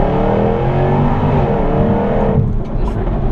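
A fast sports car accelerating hard out of a corner, a loud, close, sustained engine roar with rising pitch that drops off abruptly near the end as the throttle lifts.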